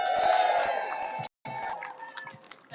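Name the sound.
crowd cheering for a new MC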